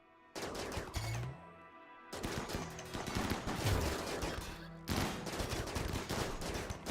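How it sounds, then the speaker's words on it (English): Assault rifles fire in the RimWorld colony game in loud, dense bursts of rapid gunfire, several overlapping volleys separated by short pauses. "Yeah, the assault rifles worked actually a lot better, surprisingly."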